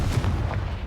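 A short, muffled booming blast from the Confringo spell in Hogwarts Legacy, a low rumbling explosion with a few quick thumps, heard alone and close.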